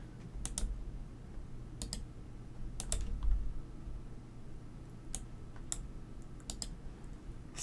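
Sharp mouse clicks at a desk, a few single and double clicks scattered over a quiet background hum, close and crisp with no talking.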